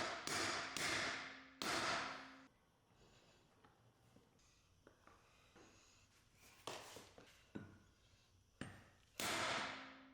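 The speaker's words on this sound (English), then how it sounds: "Give the retaining clip a few swift hits to ensure it seats correctly" Sharp metallic hammer taps on a retaining clip being seated on a Ford Ranger driveshaft carrier bearing, several distinct close strikes in two groups with quieter shop noise between.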